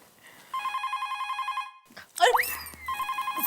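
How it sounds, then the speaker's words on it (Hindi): A telephone rings with a rapid trilling electronic bell in repeated bursts, interrupted by a brief burst of voice and clatter before the ringing resumes. "घंटी बज रही है कब से"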